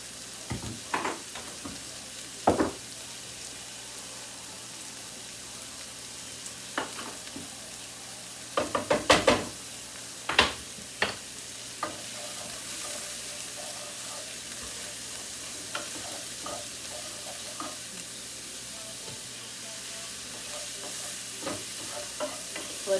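Food sautés in a pan over a steady, soft sizzle, with scattered sharp clicks and scrapes of a utensil stirring, including a cluster of louder knocks partway through.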